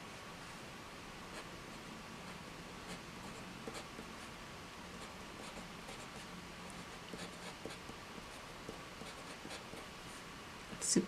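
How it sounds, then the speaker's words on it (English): A fountain pen scratches softly across paper while an ink name is written into a swatch book, faint close strokes in short bursts over steady background hiss, with no talk. "I'm just going to use the pen to write in the name here so I can add it to my swatch book"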